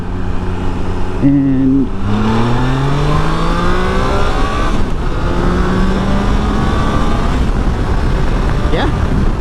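A 2022 Triumph Tiger Sport 660 motorcycle pulls hard in second gear toward about 3,500 rpm on a rough road, its engine note rising loud and close, with a brief shift and a spoken word near the start.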